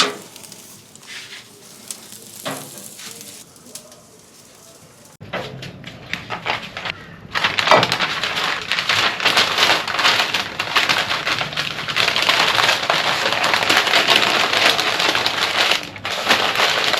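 Lamb hitting a hot grill during an Aussie mixed grill, quiet handling at first, then a loud, continuous crackling sizzle that holds steady close by.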